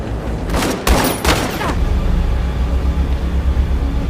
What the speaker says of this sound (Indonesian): Sang kapten yang mengetahui hal tersebut menembak Alice